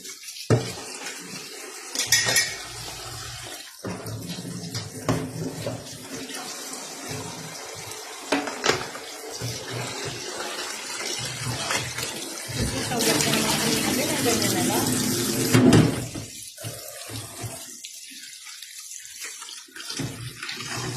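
Tilapia being rinsed again under running tap water in a kitchen sink, a steady splashing stream with clinks of dishes, partly under conversation among several people.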